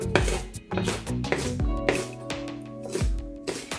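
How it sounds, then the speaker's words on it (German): Spring onion sliced diagonally with a knife on a board: a rapid run of close, crisp cuts with tapping against the board, heard under steady tonal music that continues throughout. "Frühlingszwiebel einfach nur schräg schneiden."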